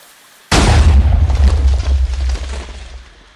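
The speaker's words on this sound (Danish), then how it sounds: "Så går vi hen til den nok mest simple TNT-kanon, du nogensinde kan lave i Minecraft" A simple Minecraft TNT cannon fires and explodes in-game, one sudden loud boom with deep rumble that trails off over a few seconds.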